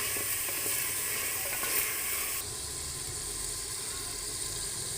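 Chicken and arbi (taro root) sizzle and fry in a pan, a continuous loud hiss with faint stirring scrapes, dropping slightly in level partway through as the frying settles.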